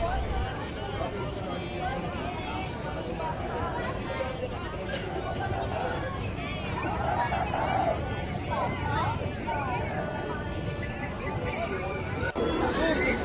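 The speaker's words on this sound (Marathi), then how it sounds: "हे पहा किती गर्दी वाढलेली आहे आता आरती झालेली आहे आणि गर्दी पाहू शकता तुम्ही भरपूर भाविक दर्शनाला येत आहेत" Dense crowd of devotees at the Shri Swami Samarth math in Pushpak Nagar, Panvel, after the aarti: a continuous, fairly close babble of many voices with footsteps and general bustle throughout.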